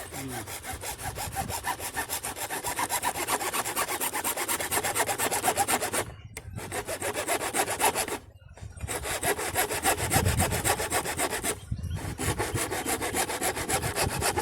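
A hand saw cuts through a farm pipeline pipe in steady, rasping back-and-forth strokes, close and continuous, with three brief pauses between bursts of sawing and no voices.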